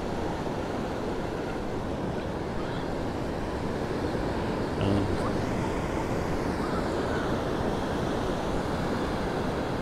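Pacific surf rolls onto a sandy Oregon beach in a constant, broad wash of breaking waves, steady and fairly loud, with wind in the background.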